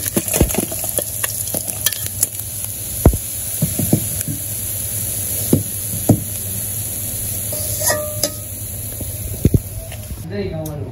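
Small fresh fish from a beel fry in a pan over a village cooking fire, giving a steady hiss of sizzling oil. Sharp scrapes and knocks come at intervals as the fish is stirred and turned.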